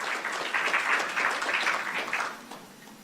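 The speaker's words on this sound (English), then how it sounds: "I would really love to have a round of applause for my team" A conference audience gives a short round of applause at a business forum. The clapping swells quickly, holds for about two seconds and then fades away.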